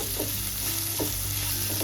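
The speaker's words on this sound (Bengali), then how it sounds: "সমস্ত উপকরণকে একসাথে লো টু মিডিয়াম ফ্লেমে একটু ভাজা ভাজা করে নেব" Ginger, garlic, green chilli and oregano frying together in a pan over low to medium flame, a steady close sizzle with three soft stirring scrapes spaced across the moment.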